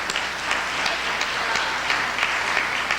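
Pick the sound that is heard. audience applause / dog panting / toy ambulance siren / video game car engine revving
audience applause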